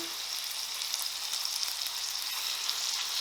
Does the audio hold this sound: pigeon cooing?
no